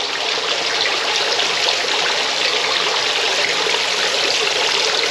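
Aerator bubbler churning water inside a homemade catfish livewell, a loud, steady, dense bubbling and rushing wash with no pauses and no voices.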